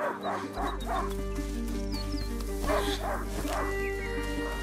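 A hunting dog named Leon barks repeatedly in A Plague Tale: Innocence, quick yips running on through a steady low hum and game music in the background.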